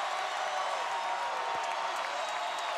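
A basketball arena crowd at a St. Mary's vs Gonzaga college game roars steadily, a dense wash of cheering and applause that stays loud throughout the clip.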